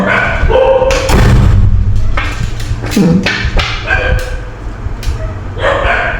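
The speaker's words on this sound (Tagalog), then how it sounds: "Ay, yan ang aso." A dog barks several times in short bursts, close by, mixed with thumps and a person talking over it.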